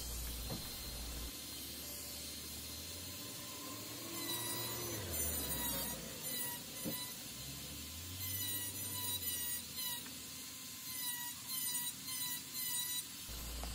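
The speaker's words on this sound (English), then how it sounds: "I'm just going to do all of this with just this little micro motor tool" Small micro motor rotary tool texturing a live oak vase on a lathe, a high whine and gritty scraping that rises and falls in uneven passes, close up and alone without talk.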